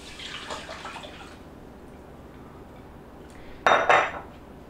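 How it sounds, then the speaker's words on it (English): A short burst of water splashing as a cup of water is poured into a pot, loud and close, following a quiet stretch with faint clinks of kitchenware. "And then 1 cup of water. I'm going to pour that in also."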